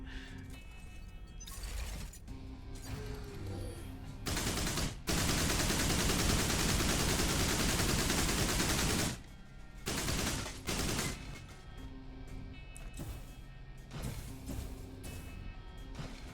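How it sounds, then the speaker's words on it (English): Chain gun fire in the first-person shooter Mothergunship: mechanical clanks and short bursts give way to a long, loud, continuous roar of rapid fire, then choppy bursts and machinery rattles resume. "We'll do another chain gun."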